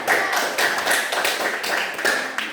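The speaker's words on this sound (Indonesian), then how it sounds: "Tepuk tangan dulu untuk mereka." An audience claps for presenters after a classroom presentation, a short round of applause with loose, uneven claps and a few louder slaps standing out over about two and a half seconds.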